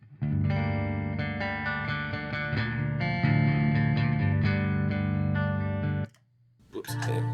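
Electric guitar played through a True Velvet overdrive pedal, a sustained run of distorted chords and notes for about six seconds, then a brief pause before a short burst of noise.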